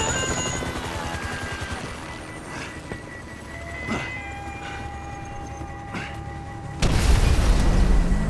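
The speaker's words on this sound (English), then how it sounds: "Chopper, incoming." An attacking helicopter in the video game GTA V gives a droning rotor hum with sharp mechanical tones. It is punctuated by several thuds and ends in a louder burst, with some game speech mixed in.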